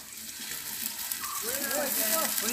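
Ginger garlic paste hits browned onions in a pan over a wood-fired stove while cooking country chicken curry, giving a steady hiss of frying that swells into a brighter sizzle with bubbling pops; a voice talks over it.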